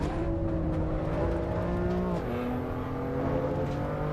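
A BMW race car engine in Assetto Corsa EVO drones steadily and close, its harmonic tone dipping in pitch midway before climbing again, with no talking.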